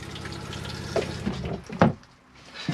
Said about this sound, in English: you'll be able to press this button here, which will flush the toilet